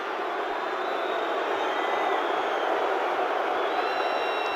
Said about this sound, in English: The crowd showing their displeasure at the decision, or rather the non-decision